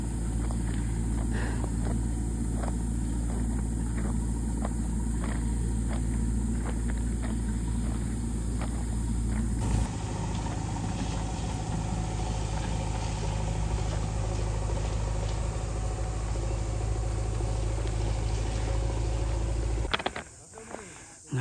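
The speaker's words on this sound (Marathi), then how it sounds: "JCBने चढवायला घेतले, 2-3 वेळ ट्राय केल्यानंतर आता हळूहळू" A JCB excavator strains to tow a car up a steep gravel slope, its heavy engine droning and revving steadily for around twenty seconds beneath ongoing talk, before a brief cut near the end.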